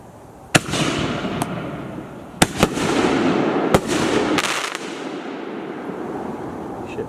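Backyard fireworks go off with several sharp cracking bangs, some in quick clusters, followed by a sustained crackling, fizzing roar outdoors at moderate distance.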